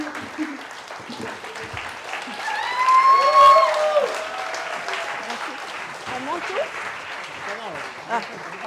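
Applause and scattered cheers rise from the audience at a stand-up comedy show, swelling loudest in the middle and then settling into softer clapping, with a voice heard briefly over it.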